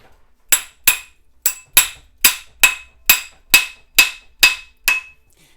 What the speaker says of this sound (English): don't hesitate to hammer it